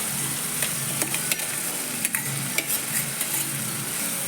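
Fenugreek leaves stirred into masala frying in a pan for a Rajasthani methi papad curry, a faint sizzle under repeated scraping and tapping of a spoon against the pan.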